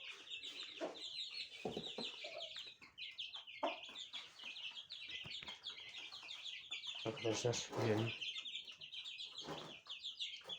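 Several chickens cluck and chatter nearby in an ongoing busy stream, with a brief loud squawk midway and a person speaking briefly.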